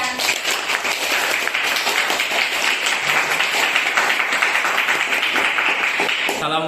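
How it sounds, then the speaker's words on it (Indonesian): A high school class claps and applauds together, a dense, steady wash of clapping from many hands held for several seconds before tapering off at the end. "Tepuk tangan buat kalian."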